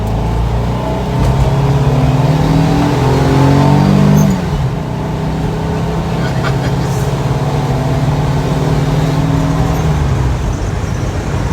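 A 200 hp turbocharged VW bus cruises at around 50 mph, its engine giving a steady, loud, harmonic drone heard from inside. The pitch dips slightly partway through as the throttle eases.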